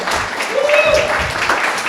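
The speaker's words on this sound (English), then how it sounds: "Yes, you can certainly clap for her." An audience claps for designer Mary Jane Marcasiano during a short stretch of steady applause at a Knowledge Friday talk, with a voice speaking over the clapping.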